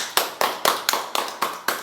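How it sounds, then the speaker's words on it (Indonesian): Classmates in a sixth-grade primary school classroom give a round of steady, evenly spaced claps for a student group, about eight close sharp hand claps in a regular rhythm with no talking. "Beri tepuk tangan untuk kelompok 1."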